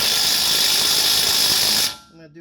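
Power tool tightening the hub bolts on a 2003–2008 Corolla Type-S rear wheel bearing hub, a loud steady whirring burst lasting about two seconds, then cutting off abruptly.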